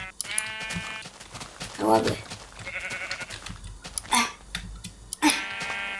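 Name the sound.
sheep bleating in Minecraft video game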